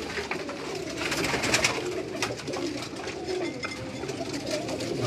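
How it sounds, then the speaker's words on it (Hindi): A bang pigeon coos on a rooftop in Karachi, its low, repeated throaty calls steady and fairly close over a constant background hum. "ये बांग का कबूतर है जी,"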